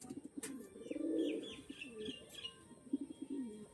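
Pet pigeons in a breeder's loft cooing close by, soft low rolling coos repeating over a few seconds alongside faint chirps and background noise.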